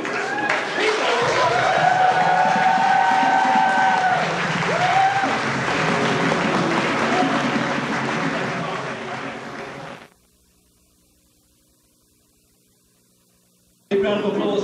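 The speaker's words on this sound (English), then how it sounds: "Big round of applause for our voice actors" Convention audience applauding Transformers voice actors after a script reading: about ten seconds of loud, sustained crowd clapping with some voices over it, then a sudden cut to near silence before sound resumes.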